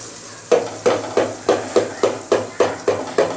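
Yogurt paste with cardamom hits a hot pan, and a spoon scrapes through it in about nine evenly spaced strokes over a soft, low sizzle, close up and steady.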